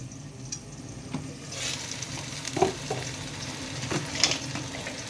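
A dhapra flatbread of poured batter frying in ghee on a pan, a low steady sizzle with a few faint clicks and scrapes scattered through, heard alone without voices.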